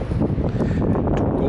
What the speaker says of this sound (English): Super windy, I think.